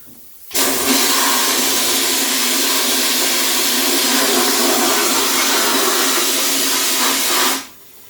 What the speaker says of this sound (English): you can see you get a pretty good jet of water coming out off that with the air